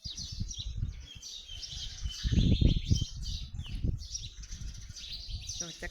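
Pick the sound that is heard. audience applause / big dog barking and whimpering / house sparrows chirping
house sparrows chirping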